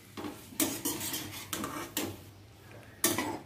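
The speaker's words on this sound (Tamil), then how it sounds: "இப்போ அதில் வந்து கேரட் போட்டு நல்லா கிண்டி விட்டுக்கணும்." Grated carrots stirred in ghee in a pan for carrot halwa, with repeated scraping and knocking of a spoon against the metal pan over a faint sizzle, close and without talk.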